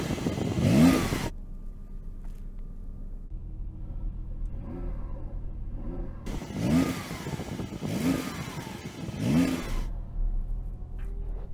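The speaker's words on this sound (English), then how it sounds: "Let's hear the Porsche, or try to, because that'll sound rubbish as well." A Porsche 911 sits stationary while its engine is revved in three distinct bursts, each rising and falling, with a low idle rumble between them.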